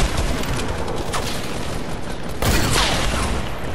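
Rapid gunfire in a Disco Domination video game, a continuous loud rattle of shots with a sharper burst near the end, no voices.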